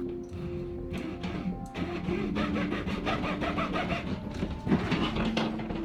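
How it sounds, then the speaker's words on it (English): A hacksaw cuts through a plastic toy with steady back-and-forth strokes, close and fairly loud, running continuously with no talk. "I returned with a hacksaw since I needed something to cut the toy apart."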